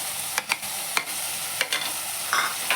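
Green chili and tomato hit a pan and sizzle steadily as a spoon stirs, with several distinct scraping clicks over the constant frying hiss.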